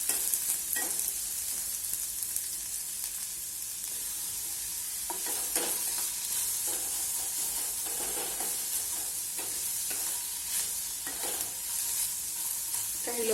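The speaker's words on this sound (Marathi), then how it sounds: "कांदा छान आपल्याला लालसर होईपर्यंत भाजायचा आहे," Onion sautéing in a pan for Maharashtrian vangyache bharit (smoked brinjal mash), a soft continuous sizzle with intermittent stirring scrapes, fairly close and moderately quiet, no talking.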